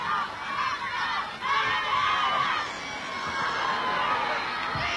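A 1981 It's a Knockout audience in Dunfermline, Cumbernauld and Glenrothes cheers and shouts from a distance, a steady crowd roar with some voices mixed in.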